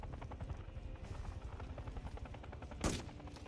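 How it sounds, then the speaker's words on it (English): Gunfire in Call of Duty: Modern Warfare III, a steady rhythmic pulse of rapid shots with a deep helicopter-like thrum under it, topped near the end by one loud sharp blast. "No, Price just shot a truck for no reason."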